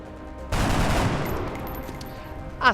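Weapon fire in the strategy video game XCOM: Long War, a loud burst of gunfire that rings out and trails off into a decaying rumble, with no talking over it.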